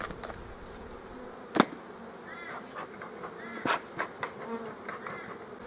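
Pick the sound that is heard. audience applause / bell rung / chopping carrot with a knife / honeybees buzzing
honeybees buzzing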